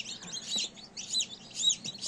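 Faint, high incubator-hatched chicks peeping in quick, repeated bursts of tiny chirps, with a few soft low clucks underneath.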